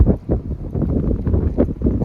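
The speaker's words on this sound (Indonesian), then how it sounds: "Kondisinya kayak gini, masih sepi, cuman angin yang gede doang." Strong wind gusting through a quiet rural village in Japan, a steady low roar with buffeting bursts against the microphone, close and fairly loud throughout with no other clear sounds.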